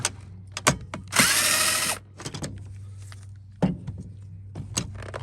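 A power drill backing screws out of a Shark Navigator vacuum's main body during a teardown, in several short loud bursts, one longer whir, and clicks between them.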